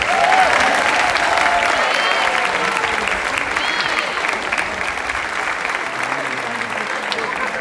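Sustained audience applause for a folk dance group at an outdoor folklore festival in Relva, Ponta Delgada, in the Azores, a dense, even wash of clapping that stays strong throughout with slight fading.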